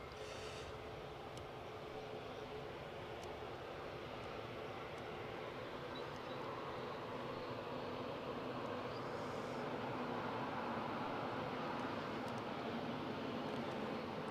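A Ryanair airliner takes off from the runway at Newcastle, its jet engines giving a steady, loud broadband roar that stays even and swells slightly toward the end, with no talking over it.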